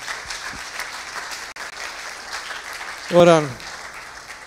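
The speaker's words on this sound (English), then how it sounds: "Round of applause." Soft audience clapping during a church baptism service, a steady faint patter under a brief spoken voice near the end.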